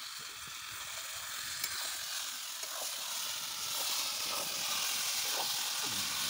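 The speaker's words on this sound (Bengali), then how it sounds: "সব ফাটিয়ে রান্না হচ্ছে পেঁয়াজ লঙ্কা আদা রসুন সব আর গুঁড়ো মশলা" Meat frying in a pot with onion, chili, ginger, garlic and ground spices at an outdoor picnic, a steady close sizzle and hiss running throughout with faint clatters.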